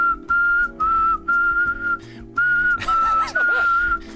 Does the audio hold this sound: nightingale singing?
no